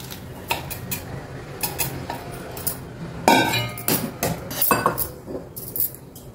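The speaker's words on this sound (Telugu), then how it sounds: "వెంటనే దీన్ని ఒక బౌల్లోకి ఇట్లా" Cooked sago pearls are strained from a pot into a bowl, giving a run of metallic clinks and knocks of utensils against vessels, with a brief louder splash and rattle midway; no one speaks.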